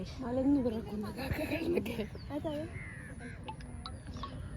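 A crow caws a few times outdoors around Mannarkkad, mixed in with close, steady conversation and a busy background.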